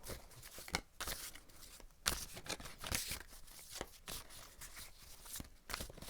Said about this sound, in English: But I want to shuffle the cards and see what this person did to hurt you.